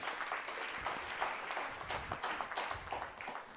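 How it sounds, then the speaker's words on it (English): An audience claps during an English-language motivational speech, a soft, distant patter of steady applause that lasts a few seconds. "Only parents clapping."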